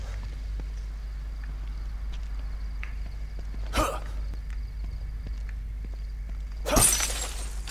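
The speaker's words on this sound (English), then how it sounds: "I have a feeling if I keep smashing car windows, I'll find something, surely." Glass shatters twice as car windows are smashed in the horror video game The Evil Within 2, a sharp crash near the middle and a louder, longer burst near the end, over a low steady ambient hum with faint scattered clicks.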